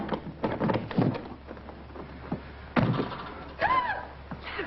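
An old door is unlocked with a key on its outside and swung open, giving several wooden thunks and knocks with a creaking squeal near the end, fairly loud and close.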